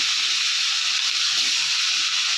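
Rohu fish pieces fry in hot oil in a wok, giving a loud, steady, close sizzling hiss that runs unbroken throughout with no voices.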